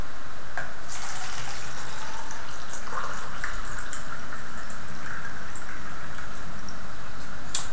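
Water pours from a pitcher into a mug in a steady trickling stream, with small splashes and bubbling as the vessel fills, close and clear with no talking.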